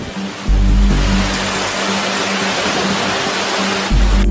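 Jog Falls on the Sharavati river in Shivamogga district roars as a constant, loud, dense wash of falling water that fills the whole scene, with no voices.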